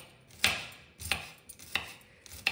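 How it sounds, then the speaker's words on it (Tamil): Small onions (shallots) chopped finely with a knife on a board, four sharp, evenly spaced cuts close up, alone with no talking. "இப்போ வெங்காயத்தை நறுக்கலாம்"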